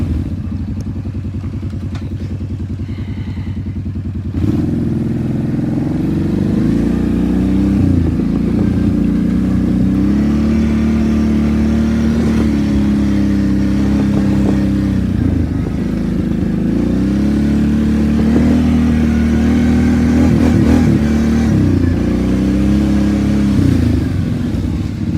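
A Kawasaki KFX700 ATV, freshly fitted with a new rear head gasket, idles with a steady throb and then is revved repeatedly, each blip rising and falling in pitch, loud and close for the whole stretch.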